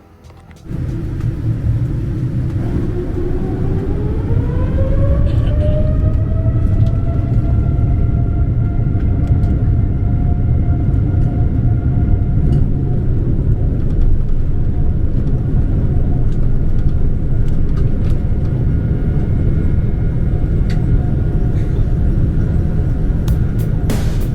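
Steady loud engine roar and cabin rumble of an American Airlines jet taking off, with a rising turbine whine climbing in pitch over the first seconds, then holding as a constant drone.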